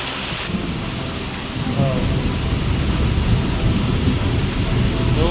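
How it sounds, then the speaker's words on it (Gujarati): A thunderstorm with heavy rain pours down in a dense, constant hiss, and rumbling thunder swells from low to loud midway through and keeps rolling to the end. "જોરદાર વીજળી થઈ રહી છે અત્યારે. વરસાદ એકદમ વરસાદ પડી રહ્યો છે"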